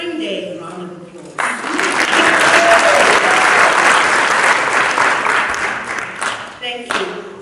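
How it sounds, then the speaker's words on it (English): Audience applause fills a symposium hall, a dense, loud wash of clapping that swells after a brief pause and holds steady for several seconds before tapering, with faint voices at the edges. "Can we have a Spring Day round of applause?"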